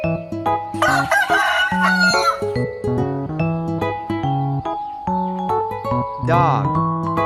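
A rooster crows in one rising, strained call partway through, set against a steady background of tonal, musical-sounding notes that dominates the rest.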